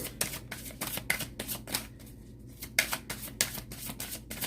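Oracle guidance cards are shuffled and drawn in a quiet room, giving a run of crisp, rhythmic riffling bursts up close, with a short pause midway.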